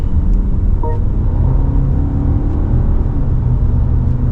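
A 2024 BMW 5 Series, a large sedan, cruising at speed, heard from inside as a steady, loud engine and road rumble with a constant whir and no talking.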